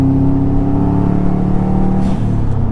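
Subaru WRX engine running choppy and sputtering while driving, a rough close cabin drone with a short uneven stumble near the end.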